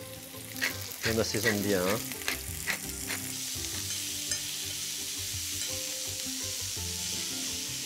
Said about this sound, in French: on va venir poêler simplement avec un petit peu d'huile d'olive, nos petites girolles